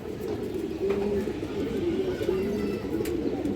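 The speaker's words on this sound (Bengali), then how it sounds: "একটা সিঙ্গেল নর কবুতর এটা একটা সিলভার কবুতর" A single male silver pigeon coos in low, repeated rolling phrases, close and steady, with faint background noise.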